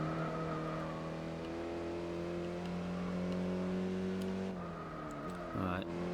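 An Audi TT in Gran Turismo 4 at the Nürburgring, its engine holding a steady high drone before the pitch drops and briefly surges again, with a voice speaking over it.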